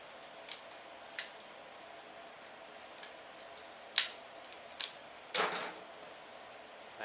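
Plastic toy figure parts being handled and snapped into place, a series of sharp, close clicks and small knocks spaced irregularly over a quiet background, with one louder ratcheting click near the end.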